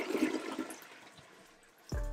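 A Japanese toilet flushes in a close, loud rush of water that thins to a quieter trickle, then a fresh gush of refill water starts near the end.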